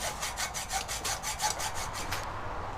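Saw cutting through a stuck bolt lodged in a car spindle on a 1994 Subaru Legacy Turbo, about a dozen quick, even back-and-forth rasping strokes close by, ending abruptly.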